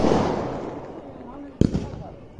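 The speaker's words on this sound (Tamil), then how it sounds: "ஒரே வெடி இவ்வளோ நேரம் தொடர்ச்சியாக வெடிச்சிருக்காங்க" A village fireworks display crackles and pops continuously at a distance, then a sharp loud bang is followed by a few quick echoing bursts.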